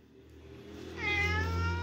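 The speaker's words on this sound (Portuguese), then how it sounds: "esse gato é muito folgado, velho." A house cat meows once, a drawn-out, fairly loud call close by with nothing else beneath it.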